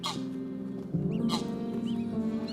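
Greylag geese in Hamburg give honking, cackling calls close by, a few overlapping cries over a low background hum.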